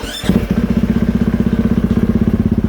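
A KTM 450SXF motorcycle engine fires up and settles into a steady, close idle with an even, rapid pulsing beat and a faint tapping knock from a worn clutch dampener.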